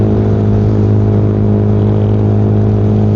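Riding along on a Yamaha Sniper 155 motorcycle produces a loud, unbroken engine drone at an even pitch, mixed with steady road and wind rush.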